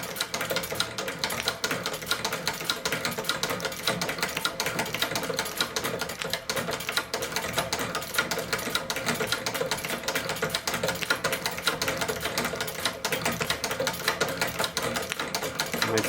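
A Singer shoe patch machine is treadled and sews two pieces of leather, giving a steady rapid mechanical clatter that runs continuously and fairly close.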